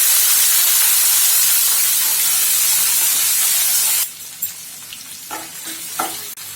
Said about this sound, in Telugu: ఈ పోపు అంతా బాగా ఫ్రై అయిన తర్వాత మనం కట్ చేసి పెట్టుకున్న అరటికాయ ముక్కలు వేసుకోవాలి.